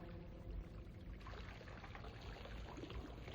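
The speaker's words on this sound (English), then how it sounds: "Only that splashing water." Water from a fountain splashes and trickles steadily, faint and distant, a continuous soft burble with no voices.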